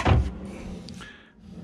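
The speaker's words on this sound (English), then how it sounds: "And there are also drawers under the bed." A storage drawer under the bed in a Galeon 680 yacht cabin slides with a single close thud at the start, then a fading scrape into quiet room tone.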